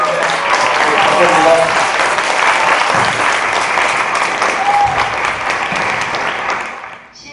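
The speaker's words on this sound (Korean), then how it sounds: "여러분 어려운 자리 나와주신 조동범 시인에게 다시 한번 큰 박수 부탁드립니다" Loud, dense applause from an audience at a poetry concert, honoring a poet, filling the room steadily before fading out at the end, with a brief spoken thanks over it.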